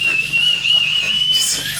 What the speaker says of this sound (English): Who's got the whistle?